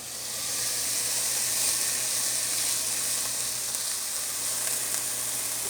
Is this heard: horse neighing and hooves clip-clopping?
no